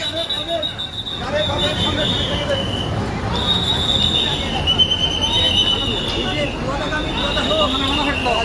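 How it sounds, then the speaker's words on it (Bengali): A shuttle train from Rajbari rolls by at the Madanpur gate in Kushtia, with high, drawn-out wheel squeals over a steady rumble, while a crowd murmurs and chatters nearby. "রাজবাড়ি থেকে পুরাদাগামী ট্রেনটা কুষ্টিয়া মদনপুর গেটে আটকায় দিয়েছে।"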